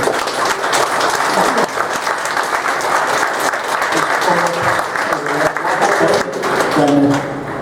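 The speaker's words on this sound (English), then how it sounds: "I think that deserves a round of applause in itself" Sustained applause from an interview audience at the Revival Solstice 2016 event, dense and steady for several seconds, with a faint voice briefly surfacing near the end.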